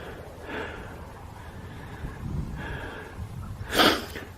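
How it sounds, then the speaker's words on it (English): A person out of breath on a playfield at a campsite pants heavily and close, several rough breaths rising and falling, ending in one louder sharp exhale, with no talking. "And I'm panting because I'm out of breath."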